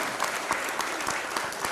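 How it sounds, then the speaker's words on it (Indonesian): An audience claps in steady, dense applause for the whole stretch at a talk or gathering, a moderately close crowd with no voices rising above it. "Tepuk tangan."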